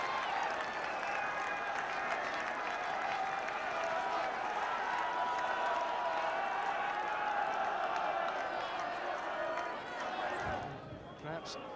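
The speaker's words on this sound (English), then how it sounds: "the crowd will cheer because he has added another 2 points." A rugby crowd at the 1993-4 Pilkington Cup Final applauds and cheers a successful kick, a loud, dense wash of clapping and voices that holds steady for about ten seconds before dying away, with a commentator talking over it.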